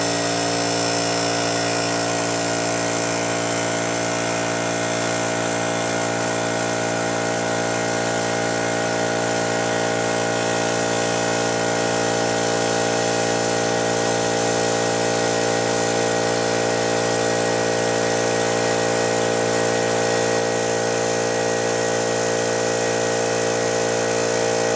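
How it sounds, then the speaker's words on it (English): California Air Compressor running continuously at close range, a loud, steady mechanical drone with a strong tonal hum and no change in level throughout. "we're going to turn on the compressor and get a reading here to see just how loud"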